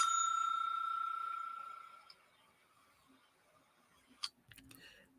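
A single bicycle-style bell rings clearly and decays slowly over about two seconds, followed by near silence with a few small clicks and handling noises.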